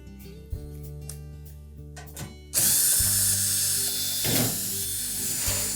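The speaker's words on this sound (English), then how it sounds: "we're going to remove these 1/4-inch hex head screws that secure that back panel to the cabinet" A power driver removes 1/4-inch hex head screws from the back panel of a Whirlpool washer. Faint mechanical clicks give way to a sudden, louder whirring run of the tool, heard close with no talking.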